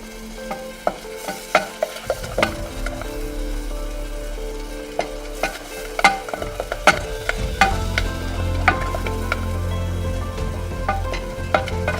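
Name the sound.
stirring flour into a sauce in a pan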